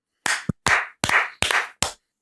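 A quick run of five sharp hand claps, close and loud, spaced about a third of a second apart, each ringing briefly into silence.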